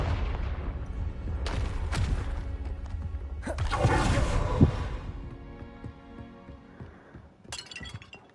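A Confringo spell from Hogwarts Legacy bursts with booming blasts and glassy shattering, a few loud explosive hits separated by quieter gaps, with no talk over them.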